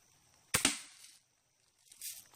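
A single sharp gunshot cracks out while squirrel hunting on a rainy day, fired at a jug, followed by a short fading tail and a faint rustle afterward.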